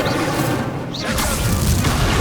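A fiery burst from the Incendio spell in Hogwarts Legacy, a single loud booming whoosh that flares midway and lingers over steady in-game ambience.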